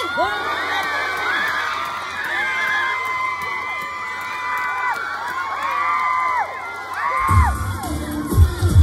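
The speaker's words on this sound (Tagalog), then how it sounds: "Mas malakas para dumating na si Yorme!" A large crowd shouts and cheers in a continuous roar with high voices rising over it, then swells louder and rougher toward the end.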